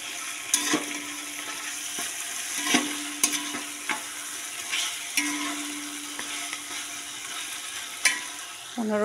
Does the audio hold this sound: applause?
no